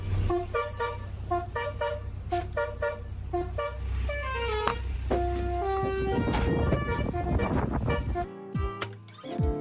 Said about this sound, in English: GTA alarm. GTA like honking sound.